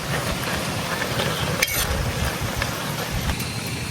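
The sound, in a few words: mashing cooked taro stems with a spoon in a pan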